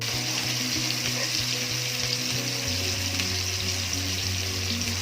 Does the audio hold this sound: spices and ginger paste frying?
yes